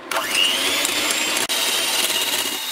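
An electric hand mixer whirs steadily, beating egg yolks in a bowl for a chocolate mousse birthday cake, a continuous close motor drone with one brief dip midway.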